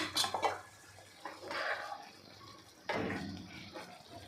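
A spoon scrapes and clinks in a pot while alu vadi curry, made with colocasia leaf rolls, is stirred with garam masala and coriander: soft, quiet, intermittent scraping strokes with brief metallic taps.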